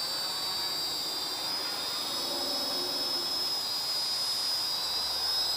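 A Skytech TK110HW folding quadcopter drone flies overhead outdoors, a steady high-pitched whining buzz of small propellers holding constant and fairly loud throughout, with no voices.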